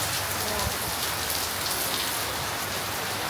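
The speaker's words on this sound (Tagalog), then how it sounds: "The rain is raining." Steady rain pattering densely on surfaces on a tropical island in Boracay, a continuous even hiss with no pauses and no voices.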